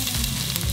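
Onion sizzles loudly in hot fat in a pan, a steady close crackling hiss with no voices.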